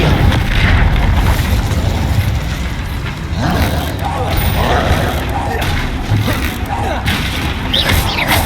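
Fire and blast spells from the Hogwarts Legacy video game erupt as loud booming, crackling bursts layered over a constant dense battle din, with several impacts hitting close together.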